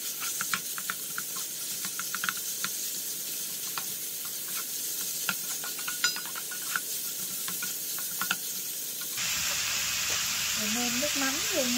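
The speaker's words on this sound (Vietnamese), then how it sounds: "Bây giờ Kiều sẽ xào thịt bằm nha" Minced meat stir-fries with garlic and shallots in a hot pan, giving a continuous sizzle and hiss broken by sharp clicks and scrapes of stirring, growing louder and brighter toward the end.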